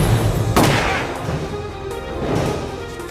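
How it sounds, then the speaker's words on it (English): A single sharp gunshot cracks early on, fired accidentally as a suspect is struck with a gun butt during a police arrest, followed by a lingering echo and low rumbling, with no talking. "He hits this bonehead so hard, it discharges the weapon."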